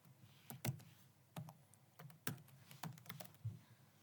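Keys on a computer keyboard are tapped in quick, uneven bursts and single clicks, close and quiet, with no talking.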